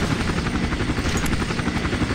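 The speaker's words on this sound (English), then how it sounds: "God, you stupid helicopter!" A helicopter in the video game Iron Storm, its steady, dense rotor drone filling the clip at close range and constant loudness, with no talk over it.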